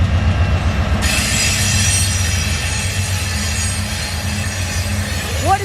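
A mixed freight train pulled by locomotives rolls past close by, with a heavy low rumble and rail noise. A bright squeal of wheels begins after the first second and holds to the end.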